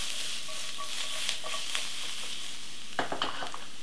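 Bay leaf, cinnamon stick and squashed garlic tossed in a hot pan with onions, giving a faint steady sizzle with a few soft clatters of stirring and a brief louder scrape near the end.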